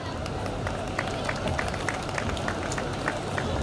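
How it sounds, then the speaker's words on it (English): Graduation ceremony audience applauds the faculty, a dense sustained clapping of a large crowd that fills the hall evenly throughout. "Let's give a round of applause to our esteemed faculty."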